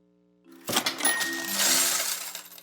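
After a moment of quiet, coins clatter and jingle as they drop, with a bright cash-register ring sounding through it.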